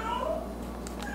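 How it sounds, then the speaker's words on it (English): A toy cat gives a short electronic meow under steady background hum, with a couple of faint clicks right after it. "you hear the cat in the back. That's a toy cat"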